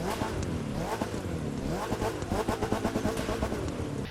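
A Spyker C8 Aileron in the racing game The Crew 2 revs repeatedly, its engine note rising and falling in quick, loud bursts with a throaty growl and rapid throttle blips.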